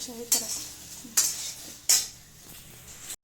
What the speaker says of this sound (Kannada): ಈ ಥರ ನಾನು ಹುರಿತಾ ಇದ್ದೀನಿ ಬೆಂಡೆಕಾಯಿನ